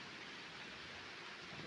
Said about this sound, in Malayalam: മഴ ചാറുന്നു.